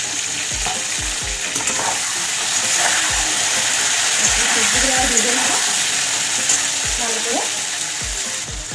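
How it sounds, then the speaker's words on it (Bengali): Vegetables for dalia khichuri frying in oil in a pan, a constant loud sizzle with repeated scraping strokes of a spatula stirring them; no talking. "এবার বাদ বাকি সবজিগুলো ভেজে নেব।"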